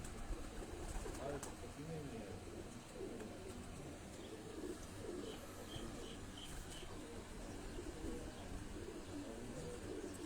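Shaheen breed pigeons coo softly and steadily over a constant background hiss, with low human voices murmuring nearby.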